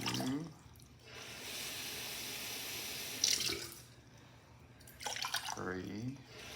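Water runs from a kitchen tap into a measuring container for hummingbird food, several separate pours with pauses between them, while a person talks quietly nearby.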